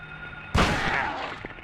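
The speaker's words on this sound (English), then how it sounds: "And as we approach, we hear gunshots." A single sharp gunshot in the Silent Hill video game near the Alchemilla Hospital, a sudden loud bang followed by a fading echoing tail and a faint later crack.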